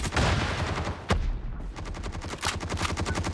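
Rapid automatic gunfire in the mobile shooter Call of Duty Mobile battle royale, loud continuous bursts with a brief pause mid-way, no talking.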